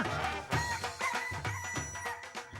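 Chickens clucking and a rooster crowing in a noisy, busy scene, several overlapping calls across the whole stretch.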